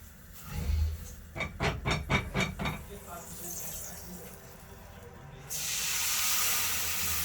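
Seared food drops into a hot pot with a quick run of five or six rhythmic sizzling bursts, then a long steady hiss that swells louder for the final seconds, with a voice speaking in the background.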